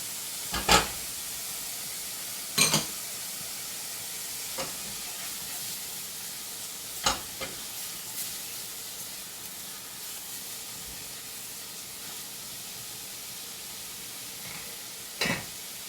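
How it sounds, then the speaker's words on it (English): Food in a pan sizzles softly and steadily, broken by a few sharp scraping stir strokes spaced several seconds apart. "Give it a little stir to keep"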